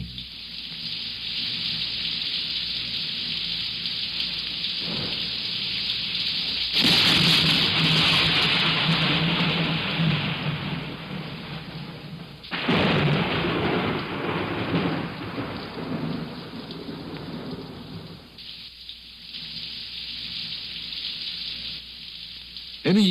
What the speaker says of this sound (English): And then there's rain.